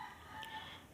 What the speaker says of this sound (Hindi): देखो मुर्गी ने भी कहा हाँ डेफिनेटली